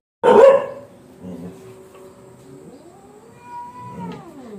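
A dog gives one loud, close bark at a cat, followed by quieter grumbling and a drawn-out rising and falling cat yowl near the end.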